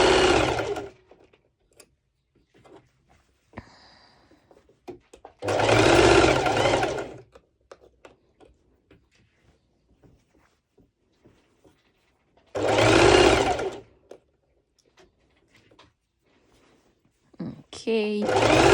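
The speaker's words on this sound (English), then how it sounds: "So it's practically just a straight stitch with the highest length." A sewing machine runs a long straight stitch joining lycra to its lining for a cropped top, in three loud bursts separated by quiet handling noise, the last burst cut short.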